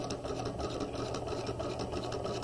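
Sewing machine stitching close along a folded fabric edge, a rapid steady mechanical whir and clatter of the needle running continuously, close and moderately quiet.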